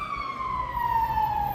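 A fire engine siren wails on a steady, slowly falling tone, moderately loud and sustained through the whole moment over low street rumble, with no talk.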